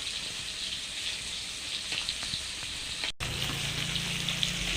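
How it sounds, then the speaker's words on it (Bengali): Fish frying in hot oil in a home kitchen, giving a steady, loud, close sizzle and crackle throughout, with a brief dropout partway through and no talking. "মাছ ভাজা"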